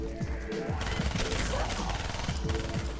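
Rapid gunfire in a zombie video game, shots hitting an ammo pack, dense and continuous with repeated sharp cracks and clatter, loud and steady throughout.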